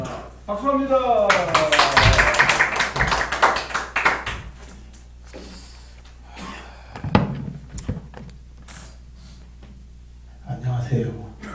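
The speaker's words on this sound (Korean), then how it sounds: "자, 박수합니다." A small church or seminary gathering breaks into a burst of hand clapping that fades within a few seconds, followed by scattered taps and thumps and a voice speaking over a quiet room.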